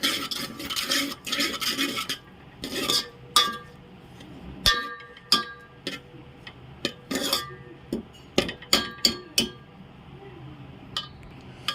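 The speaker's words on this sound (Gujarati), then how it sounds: "આપણે બધું આ રીતના મિક્સ કરી લેવાનું છે. આ રીતના આપણે બધું મિક્સ કરી લેશું." Moong beans being mixed in a bowl in a home kitchen, giving a series of close, uneven clinks and scrapes of a utensil against the bowl, with bursts of rattling stirring between short pauses.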